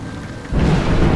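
A thunderclap from a lightning strike in a video game during a night storm, with a quieter rumble followed by a sudden loud, sustained low roar in the second half.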